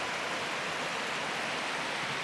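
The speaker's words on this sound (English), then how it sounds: "You know what's not quiet? Rain on a metal roof." Steady rain pouring onto a metal roof above a wall-framing site, a continuous broadband patter and hiss that stays even throughout, with no talking.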